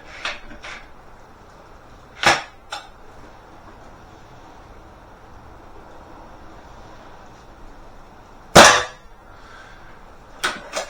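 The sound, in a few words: Webley air rifle shot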